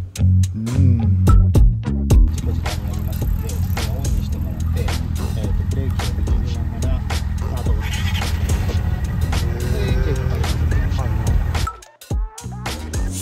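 A Vespa Sei Giorni Edition II 300cc scooter idles close by with a steady low engine drone, and a voice speaks over it throughout before the engine noise cuts off near the end.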